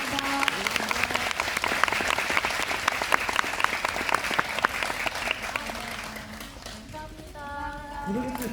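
Audience applause at a film screening Q&A for three guests, dense steady clapping from a large crowd that fades toward the end as voices and a brief tonal sound rise.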